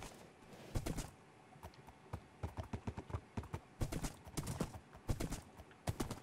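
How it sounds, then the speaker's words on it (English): A horse in Minecraft trots and gallops, producing rapid clip-clop hoof beats in uneven bursts and clusters, close and fairly loud, with faint voices in the background. "We're being followed by another horse."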